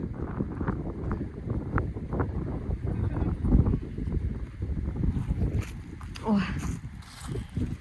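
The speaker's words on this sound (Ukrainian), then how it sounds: "Вибачайте за вітер, ну тут такий белебень." Heavy wind buffets the microphone in a village vegetable garden, a constant low rumble with a person talking underneath and occasional rustling.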